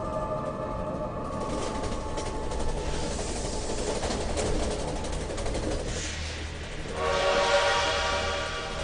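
Train at a railway station, a continuous loud rumble and clatter of rolling stock with whistle-like tonal sounds rising toward the end, with no voices.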